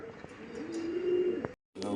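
Homing pigeons kept in a loft with a small flock of other pigeons coo and stir close by, with a brief flutter before a short cut in the sound.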